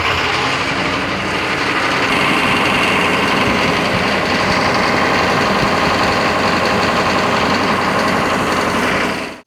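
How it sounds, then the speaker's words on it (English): A truck engine running steadily at high idle, a loud, close, continuous mechanical drone with fast even knocking pulses, heard alone until it cuts off at the end. "Let's turn it to high idle, see what that does."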